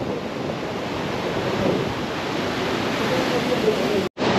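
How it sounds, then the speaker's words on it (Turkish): Ocean surf breaks steadily on the beach at Palomino, Colombia, a loud, continuous wash of rolling waves with wind buffeting the microphone, no talking. "Dalga boyları çok yükseldi."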